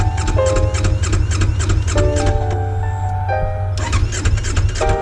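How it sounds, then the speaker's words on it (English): A motorcycle cold-starting on a cross-country trip, its engine catching and settling into a steady, loud low rumble with a faint tonal whine riding over it throughout; no voices. "This is a cold start for the bike."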